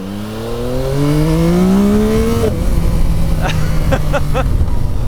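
A 2024 Yamaha XSR900 GP engine revs up under acceleration in a rising, loud whine, then drops sharply at a quick-shift and pulls on, with wind rush and a few clicks following, recorded up close while riding.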